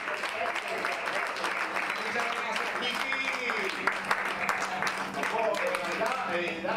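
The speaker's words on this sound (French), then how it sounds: "C'est sous ces salves d'applaudissements que le public de Douala s'est manifesté" Audience applause at an opening night of a jazz festival in Douala, a spread of clapping from the crowd with voices and a bit of music mixed in, moderately loud.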